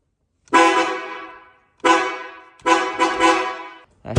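Aftermarket Malibu and Pobeda horn sets, fitted alongside the factory horn on a Yuan Up car, sound in several loud, close, brassy honks, each under a second, the third a quick double blast, with another starting at the end.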